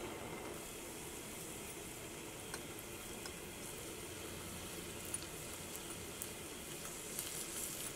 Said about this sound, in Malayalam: ഇനി നമ്മുടെ കായം ഇതിനകത്ത് കിടന്നിട്ട് നന്നായിട്ട് മുരിഞ്ഞ് വരണം.